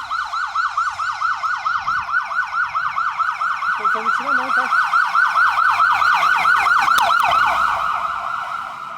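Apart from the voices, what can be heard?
ambulance siren passing in the rain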